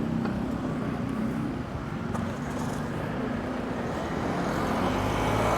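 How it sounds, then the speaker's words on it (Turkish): Dense street traffic in Thessaloniki, Greece: a continuous broadband roar of passing cars and heavier vehicles on narrow city roads, steady and fairly loud with no clear speech. "Hep trafik var abi."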